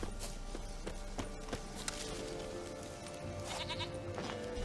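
Goat bleats from the video game The Witcher 3, heard as a few short bleats amid a busy backdrop of game ambience, footsteps and clip-clop, no talk.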